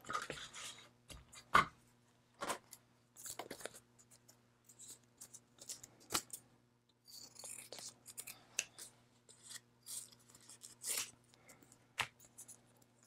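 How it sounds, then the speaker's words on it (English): Scissors snipping through faux leather, a series of short, crisp cuts and scrapes scattered across the stretch, fairly close and quiet, with pauses and light handling noise between snips and no talking. "let me see if I can cut those the rest of the way."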